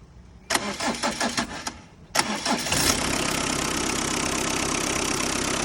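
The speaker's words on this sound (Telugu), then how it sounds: "వెహికల్ స్టార్ట్ చేస్తున్నారు." A Tata Indigo car engine is cranked by the starter in two loud, rhythmic bursts, catches on the second try, then settles into a steady close-up idle.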